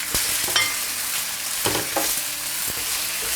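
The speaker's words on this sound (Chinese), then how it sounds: "继续翻炒它，把这番茄一定稍微给它炒一下" Chopped tomato stir-fried over high heat with onion, garlic and ginger, a constant loud sizzle broken by several scraping, clattering strokes of the spatula against the wok.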